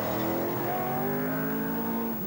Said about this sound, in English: There's a new rally car, and this is its first appearance.